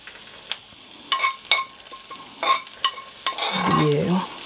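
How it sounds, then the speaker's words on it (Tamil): Cut onion tipped into a hot pan with cumin already in it: a few sharp clinks of a utensil against the pan, then a rising, steady sizzle as the onion starts to fry, close and alone. "இதில் ஒரு வெங்காயம் கட் பண்ணி இருக்கிறேன். அதை இதில் சூட்டோடு போடுறேன்"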